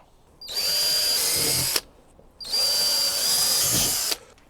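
A power drill fitted with an 11/64 bit bores holes in two loud, whining bursts of about a second and a half each, separated by a short pause, close and without speech.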